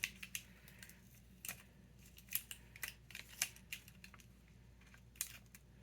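Scissors cut by hand through a craft kit box with a series of sharp, crisp snips, irregular and close but quiet, over a faint background hum.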